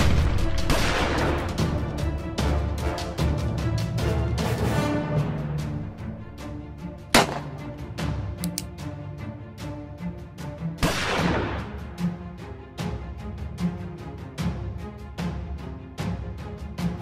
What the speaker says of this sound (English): I heard gunshots outside.